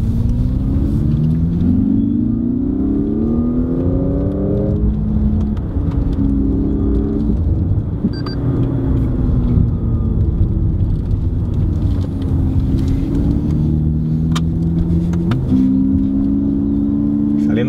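A Lexus NX 300h engine in F Sport mode revs up and down through repeated paddle-shift gear changes, each upshift snapping the pitch lower before it rises again; loud, close, continuous rumble.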